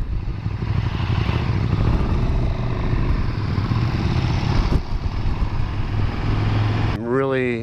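A 2017 KTM Super Duke R motorcycle runs steadily on the road, its engine drone loud and continuous with wind rush throughout, ending in a brief burst of a rising whine.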